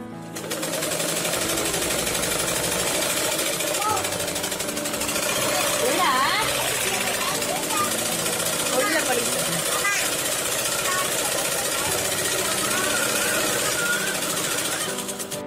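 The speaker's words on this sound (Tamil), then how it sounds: "இன்னொரு தையல் போட்டோம், 2 தையல் போட்டுக்கிறோம்." A sewing machine stitches blouse sleeves with a steady, dense mechanical whir that runs almost unbroken throughout, a voice faintly present beneath the motor.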